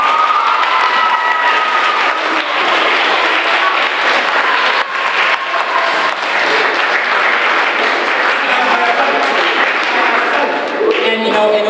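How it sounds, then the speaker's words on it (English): Sustained audience applause with cheering at a spring concert, loud and continuous crowd clapping from many hands for the performers. "applause for all of our performers."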